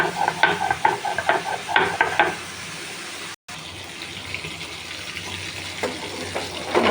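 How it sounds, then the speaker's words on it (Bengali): Pangas fish frying in a pan with a little oil, with a soft steady sizzle and scraping stirs from a spatula as the pieces are turned. No one speaks. "মাছটা আমি এভাবে গুড়িয়ে গুড়িয়ে ভেজে নেব এপাশ ওপাশ করে"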